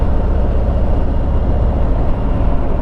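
A 2019 Harley-Davidson Street Glide Special on the road, a loud, steady low engine rumble mixed with wind buffeting, continuous throughout with no talk.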